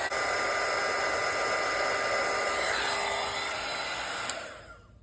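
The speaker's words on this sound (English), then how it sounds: "Where's my dryer?" A hair dryer blows with a steady, loud whooshing hum, close by, then clicks off near the end and fades out.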